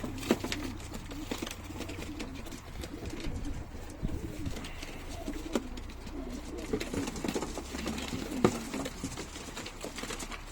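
Breeding pigeons coo repeatedly at close range against a busy loft background of rustling and soft patter, with faint voices now and then.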